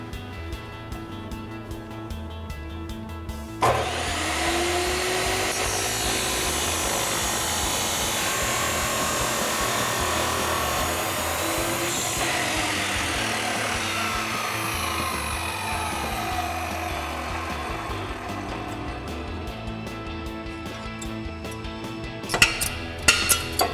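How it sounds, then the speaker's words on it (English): An abrasive chop saw cuts through a metal exhaust pipe for an MBRP single exhaust system on an EcoBoost F-150, giving a loud, steady grinding whine that runs for about twenty seconds before stopping, followed by a few clanks. "We have a chop saw, so we're going to go over to that, set this up, and get it cut down to size."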